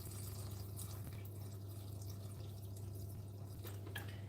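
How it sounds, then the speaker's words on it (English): Water poured or dripped into cake batter during home baking, a faint trickle beneath a steady low hum from the kitchen. "I'm gonna just add some more water to this."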